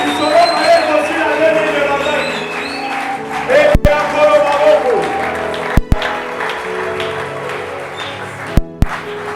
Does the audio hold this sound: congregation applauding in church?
yes